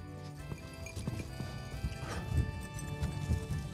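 Horses move about during training alongside miniature zebu cattle, their hooves clip-clopping in an uneven rhythm at close range, with a possible brief whinny over steady outdoor background noise.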